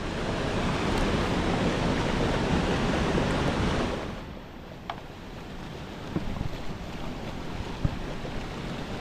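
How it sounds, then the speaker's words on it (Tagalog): Strong rushing river water roars loud and broadband, then drops to a quieter steady flow with occasional splashes, no voices. "Parang palakas ng tubig no"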